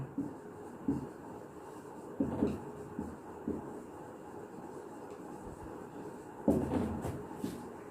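Intermittent scratchy strokes of chalk or marker on a board come in short bursts, with a louder cluster near the end, faint and close in a quiet room.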